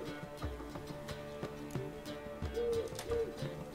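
A pet owl in The Witcher 3 gives two soft, hollow hoots late in the moment, over a quiet in-game background of faint thumps and ambience.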